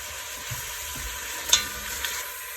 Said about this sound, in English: Now let this steak cook up and we will check back in.